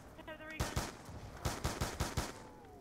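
Ray gun fired in Call of Duty Black Ops 2 Zombies, a series of sharp zapping shots in an uneven burst, fairly faint, with game sounds around them.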